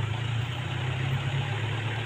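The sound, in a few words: motorcycle engine running while riding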